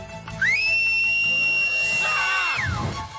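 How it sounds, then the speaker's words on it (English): A loud, sustained whistle in a children's cartoon holds one piercing high note for about two seconds before sliding downward and fading. "I need you to whistle as loud as you can"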